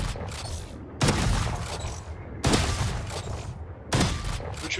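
A shotgun-style weapon in a first-person shooter fires its secondary mode in three loud, close bursts spaced over a second apart, each blast decaying into a roaring tail.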